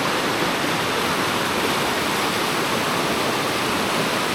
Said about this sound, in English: just listening to the sound of the river.